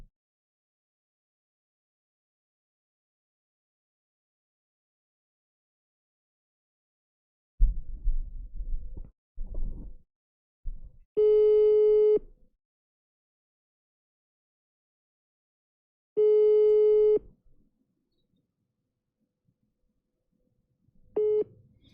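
An unanswered telephone call: muffled handling noise, then steady electronic ringback tones, a long buzz at a time with gaps of silence between, the last one cut short.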